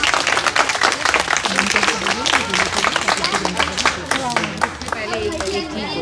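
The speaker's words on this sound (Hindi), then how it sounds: "इनके लिए जोर से तालियां हो जाए" An audience at an environmental conservation event in Delhi gives loud, lively applause with distinct individual claps. Cheering voices and talk rise through the clapping, which thins out slightly toward the end.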